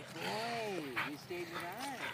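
Tater the dog yips and whines in short bursts at a park, fairly faint, with people talking around him.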